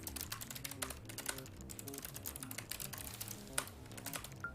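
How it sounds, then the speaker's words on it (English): Rapid, continuous clicking of a computer keyboard as commands are typed, fast and dense keystrokes with a few louder taps, heard softly over a steady low musical hum. "typing those commands all the time that quickly."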